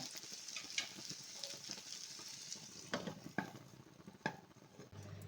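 Brinjal frying in a covered pan gives a soft, steady sizzle with faint crackles and a few sharper pops, quiet and close.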